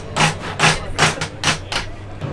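A soft face hammer knocks a shaft seal loose on a 4x4 drivetrain part, giving five or six sharp, evenly spaced blows up close with no talk.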